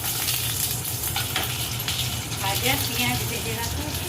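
Whole garam masala and bay leaves sizzle steadily in hot ghee in a kadai, a dense close frying hiss with light stirring clinks, voices talking over it.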